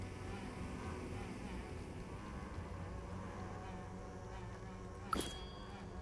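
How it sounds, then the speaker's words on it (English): Bees buzz in the hidden-object video game Lady Mabel Mysteries, a continuous droning hum at moderate level with a brief sharp click near the end. "Let's smuggle away these bees."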